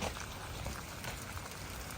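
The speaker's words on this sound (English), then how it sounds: "Horrible rainy day" Steady rain falls outdoors on a cold, dreary day, a dense, even patter of drops spread across the whole stretch with no other sound standing out.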